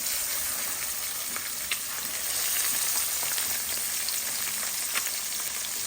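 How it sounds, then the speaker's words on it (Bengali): Fish frying in a pan, its belly full of roe, giving a dense, even sizzle with small pops, close and steady the whole time without any talk. "এখন আমি মাছটা এখন ভেজে নিব"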